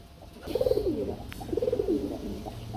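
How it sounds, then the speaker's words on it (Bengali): Giribaz pigeons of Pakistani blood cooing at a pigeon market, two close, clear rolling coos a second apart over faint background noise. "গিরিবাস কবুতর পাকিস্তানি ব্লাডের মধ্যে"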